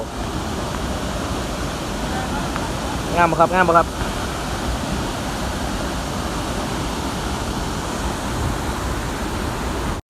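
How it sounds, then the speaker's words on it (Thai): Steady broadband roar of Tad Yeuang waterfall in Laos, constant and close, with someone briefly speaking over the rushing water. "น้ำตกครับพี่น้องน้ำตก น้ำตกที่สปปลาว"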